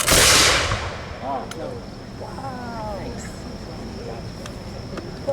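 The 23rd Regiment of Foot, Royal Welch Fusiliers reenactors fire a musket volley outdoors. One loud, sharp crack hits at the start and fades with a brief echo, followed by people talking and calling out nearby.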